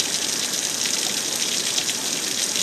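Water trickles and gushes at an old gunpowder works water wheel, a steady, hissing wash of running water that stays even and close throughout.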